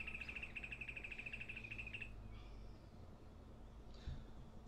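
A bird gives a rapid, steady trill of repeated high chirps for about two seconds, then fades over a low background rumble.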